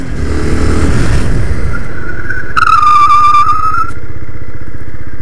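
A Dafra Next 300 motorcycle skids its rear wheel under braking: a loud engine roar drops away, then a sharp tire squeal rises and holds for over a second before it cuts off, all close and with no voices.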